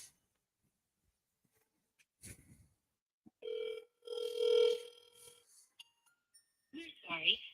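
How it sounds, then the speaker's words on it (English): A telephone call rings out with a couple of steady, moderately loud tonal rings, preceded by faint clicks and followed by a brief voice near the end. "Oh, this one's ringing."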